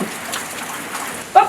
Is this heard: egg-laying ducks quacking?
no